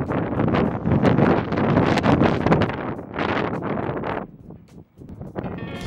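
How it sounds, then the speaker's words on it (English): Strong wind in Wellington, New Zealand, roars and buffets the microphone in heavy gusts, easing briefly near the end before rising again. "a couple of clips here demonstrating how windy it can get in Wellington"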